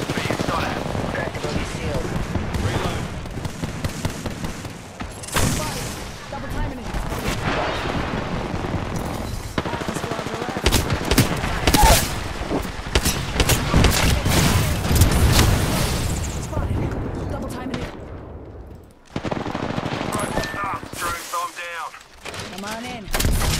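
Gunfire in the video game Apex Legends, with rapid automatic bursts, cracking shots and booming blasts coming in dense clusters, loud and close, and brief pauses between exchanges.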